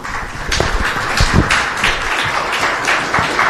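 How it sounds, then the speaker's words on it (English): Audience at a national summit on the housing affordability crisis gives a round of applause, loud close-up clapping with sharp individual hand strikes standing out from the steady crowd patter. "Another round of applause."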